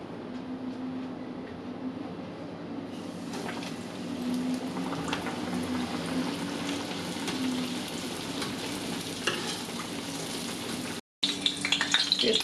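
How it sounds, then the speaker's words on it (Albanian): Mozzarella-filled panzerotti deep-frying in hot oil give a steady, dense sizzle and bubbling throughout, briefly cut off near the end before resuming. "Dhe kështu do vazhdojmë dhe do t'i skuqim gjitha me radhë."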